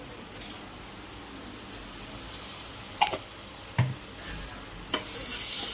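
Thalakaya curry (mutton head curry) being stirred and fried in a pan, a soft continuous sizzle broken by a few sharp scraping knocks of the spoon against the metal.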